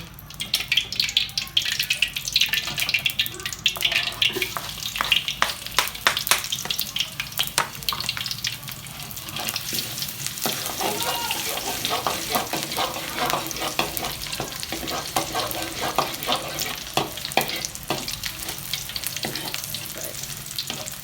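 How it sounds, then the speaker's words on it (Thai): Garlic stir-frying in hot oil in a pan, a loud continuous sizzle with repeated scraping clicks of the spatula, close up and steady throughout with no talking. "ผัดกระเทียมให้หอมนะคะ"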